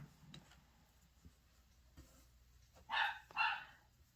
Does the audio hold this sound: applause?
no